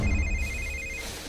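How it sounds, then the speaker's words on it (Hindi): A telephone rings in a horror story, sounding a short electronic trill that lasts about a second before stopping, set against a low background rumble. "ये ले, थारे बाप ने फोन मिला दिया।"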